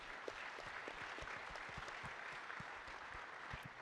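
An audience gives a round of applause at a seminar with students, a continuous dense clapping patter heard at moderate distance, steady from start to finish.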